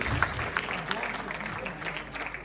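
Audience applause for a quiz team at an international school quiz, a short burst of scattered hand clapping in a hall, mixed with speech.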